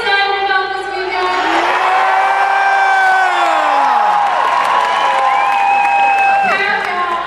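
A large convention crowd at a keynote opening cheers and whoops steadily, with applause and shouting sustained throughout at high volume.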